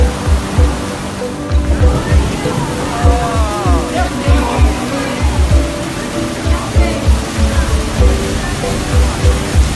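Rushing floodwater after a night of heavy rain in Belo Horizonte, Brazil, pours as a loud, dense churning roar with pulsing surges, while a voice talks intermittently over it.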